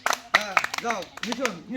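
Scattered hand claps from a group at a festive pot-breaking game, several sharp claps in the first second mixed with lively talking and cheering voices throughout.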